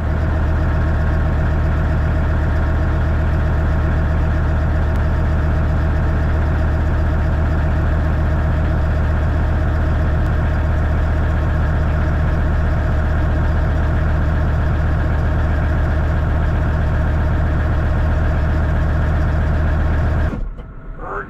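A farm tractor engine idles steadily and loudly up close, a constant low droning hum that continues unbroken before cutting off abruptly at the end.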